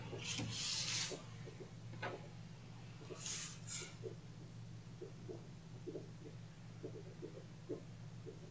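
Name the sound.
cutting out paper flag freehand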